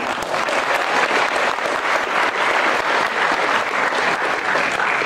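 An audience applauds during a campus study tour presentation, a dense continuous burst of clapping from a crowd that holds steady and loud for several seconds.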